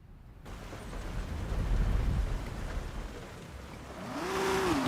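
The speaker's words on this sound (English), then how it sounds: "I don't know why it doesn't stop raining in this game, man." Steady rain in the Forza Horizon 6 racing game, a faint wash of falling drops with low rumbles, and a car engine note rising near the end.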